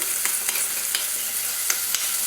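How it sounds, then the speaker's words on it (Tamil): Tomatoes frying in oil for a tomato pickle, a steady loud sizzle with a few soft stirring taps from a spoon. "இந்த தக்காளி வந்து அந்த எண்ணெயிலே நல்லா ட்ரையாக வதங்கிட்டே இருக்குது"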